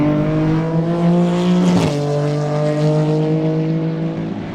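First-place race car in the Sebring two-hour enduro sweeping past at close range, a loud engine drone that swells, then drops in pitch as it passes mid-clip and fades slightly afterward.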